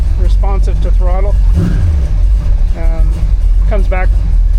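A hot rod truck's V8 engine rumbles low and briefly revs up and back down under steady nearby talking, the idle returning quickly after the throttle blip.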